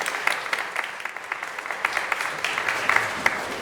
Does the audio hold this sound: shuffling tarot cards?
no